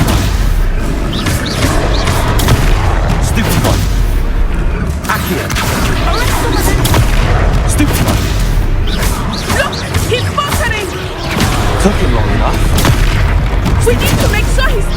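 Spell combat in Hogwarts Legacy, with loud, dense blasts, booms and whooshing impacts crowding together and barely letting up, while a player's voice shouts over the fighting.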